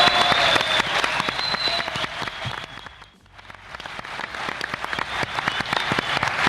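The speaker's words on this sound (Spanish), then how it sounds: "Podéis hacer el ruido que queráis, porque este es nuestro aplauso para vosotros" A theatre crowd at a live podcast recording claps and cheers in a thick, loud wash that thins briefly midway before swelling back up to full strength.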